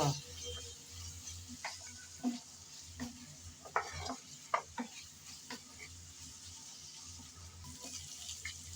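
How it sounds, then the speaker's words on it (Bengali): Cardamom pods, cinnamon and bay leaves fry in oil in a pan while a spatula stirs them: a soft, steady sizzle broken by scattered scraping clicks, fairly quiet and close, with no talking. "নেড়ে চেড়ে হালকা করে সব একসাথে ভেজে নেব"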